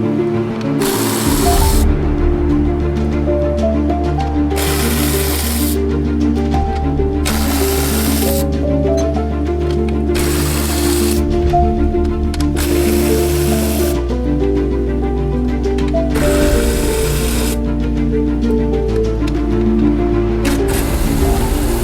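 A socket wrench on the nuts of a Jeep Gladiator's factory bumper plate gives about eight short, loud, buzzing bursts at a steady rhythm over a constant tonal background.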